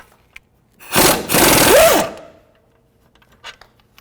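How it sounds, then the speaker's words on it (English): A power tool with a 21mm socket spins off a brake caliper mounting bolt on a 2008-2012 Jeep Liberty, one loud buzzing rattle of about a second with a brief stutter, then quiet with faint clicks. "Remove the caliper from the knuckle 21mm socket."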